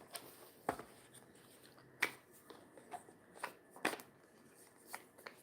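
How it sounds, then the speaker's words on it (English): A deck of tarot cards being shuffled by hand gives quiet, irregular snaps and soft slaps, several sharp card clicks spaced unevenly, close up with no talking. "I'm going to shuffle."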